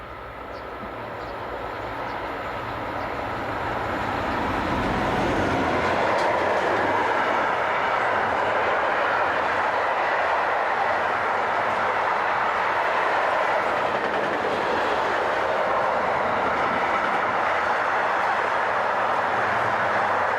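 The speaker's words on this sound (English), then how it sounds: "Here DB's class 182010 heads west at just after 9 AM." A DB class 182 electric locomotive hauls a train westward past the lineside, building from a distant rumble into a loud, sustained roar of wheels and wagons that continues steadily.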